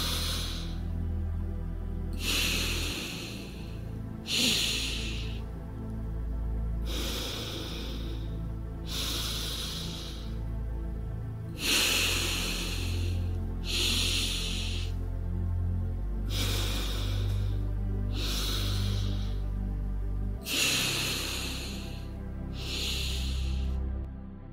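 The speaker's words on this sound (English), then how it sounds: "Now continue at your own pace, alternating the nostril that you inhale through and exhale through." Slow alternate nostril breathing in a calm exercise, with long, steady airy inhales and exhales repeating about every two seconds, close and clear with no talking.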